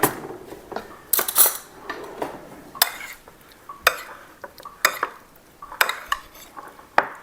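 Peach filling mixed with flour is stirred in a bowl, a spoon scraping and clinking against the sides in irregular strokes, close and fairly quiet, with no voices.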